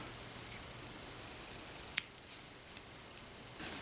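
Scissors snipping crochet yarn, with two or three quick, crisp clicks of the blades close by against a quiet, hissy room background, no voices.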